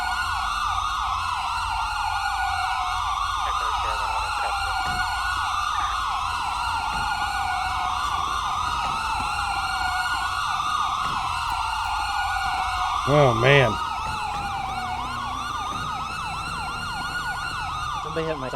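Police car siren in a GTA 5 roleplay game wails continuously through the whole stretch, loud and close, its pitch sweeping up and down in steady cycles, with a brief voice breaking in near the end.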